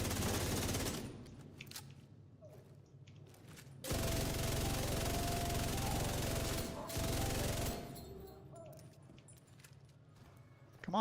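Automatic gunfire in The Division 2, long sustained bursts of rapid shots in two main volleys with short gaps between them and a brief burst at the very end, loud and close.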